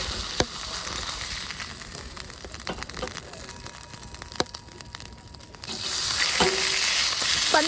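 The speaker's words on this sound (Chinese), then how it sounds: "煎鱼排啦" A fish fillet sizzles in oil in a small black pot over a small wood-burning tent stove, a steady close frying hiss with occasional pops that swells louder near the end.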